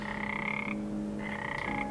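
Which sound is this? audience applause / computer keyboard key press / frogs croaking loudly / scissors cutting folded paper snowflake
frogs croaking loudly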